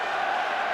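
Stadium crowd in the PES 2009 football video game, a steady broad roar of massed voices, loud and unbroken for a brief moment.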